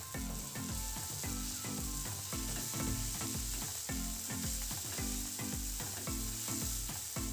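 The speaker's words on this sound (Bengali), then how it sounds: "এইভাবেই মাঝে মাঝে নাড়াচাড়া করে এটাকে একদম সুন্দরভাবে কষিয়ে নেব" Onion masala sizzles and fries in oil as it is stirred in a pan, with a dense, constant crackle and rhythmic scraping strokes of the spatula, close and alone without speech.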